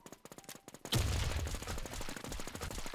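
Gunfire in a shooting video game: quick rapid-fire shots rattle off at a steady pace, then a louder burst of heavy automatic fire lands with a boom and keeps going.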